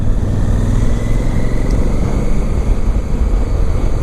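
Steady engine drone and road rumble from a 2017 Honda Africa Twin motorcycle being ridden on a road, continuous and loud with wind noise and no talking.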